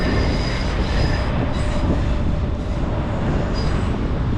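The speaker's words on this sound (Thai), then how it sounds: "นี่เป็นรถไฟ BTS เนาะ" A BTS elevated metro train in Bangkok rumbles steadily past, heavy low roar with faint metallic squeals and rattling wheels, close and continuous throughout.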